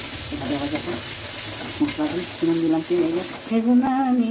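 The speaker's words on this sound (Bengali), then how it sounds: "পেঁয়াজ রসুনটা ভালোভাবে ভেজে নিতে হবে যাতে ওর মধ্যে কোনো কাঁচা ভাব না থাকে" Onion and garlic, with chopped ginger, frying in a pan for a meat and lentil dish, giving a steady sizzle with repeated stirring scrapes, close and fairly loud, no voices.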